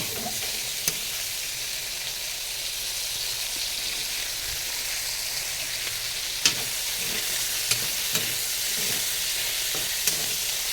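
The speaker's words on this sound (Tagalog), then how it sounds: "Then, lagay natin ang ating sayote. Gisa." Chopped chayote sautéing in a hot pan for a Filipino pancit miki bihon dish, giving a steady, even sizzle with occasional sharp clicks of a utensil against the pan.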